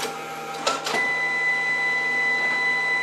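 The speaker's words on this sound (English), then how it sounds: "Printer's a little loud" A printer runs steadily while printing, with a continuous mechanical whir and a brief burst of louder feeding noise near the start, heard close and alone.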